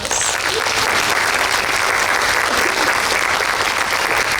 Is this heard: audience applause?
yes